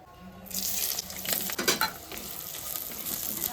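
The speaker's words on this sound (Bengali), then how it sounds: "এবার পেঁয়াজগুলোকে হালকা করে ভেজে নেবো" Onions fry in very hot oil in a wok over a low flame, a steady loud sizzle that bursts in after a short quiet start and crackles on without talk.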